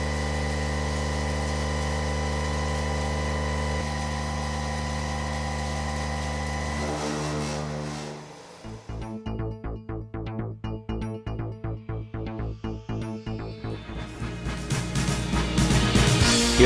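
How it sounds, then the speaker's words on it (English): A 50 taper machining center runs with a Mega Double Power Chuck, first a steady tonal spindle whine, then a deep heavy cut with rapid rhythmic chatter that grows louder toward the end. "650 thousandths and a 315 thousandths depth of cut on a 50 taper machining center"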